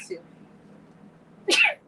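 A single short, sharp sneeze bursts out near the end, close and loud after a quiet stretch with a faint brief sound at the start.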